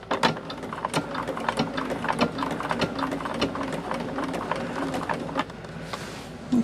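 A sewing machine stitches quilt pieces along a quarter-inch seam, a steady close mechanical whir with rapid ticking that runs the whole time, with a few sharper clicks and brief dips.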